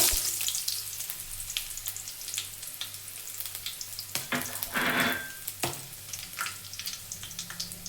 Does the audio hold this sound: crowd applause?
no